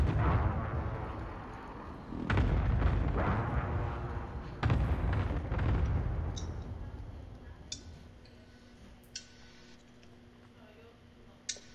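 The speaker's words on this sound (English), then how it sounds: "Allied cluster strike inbound. Be advised, friendly position airstrike inbound." Cluster airstrike explosions in Call of Duty: Modern Warfare, a few heavy booming blasts rolling out and fading, followed by small ticks and clicks as the rumble dies away.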